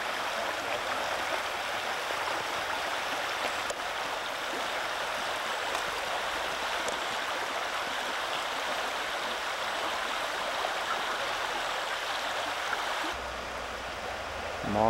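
A mossy, shaded stream flows steadily with a continuous broadband rush of water that stays even throughout, with no voices over it; near the end the texture shifts briefly, as if the position changes.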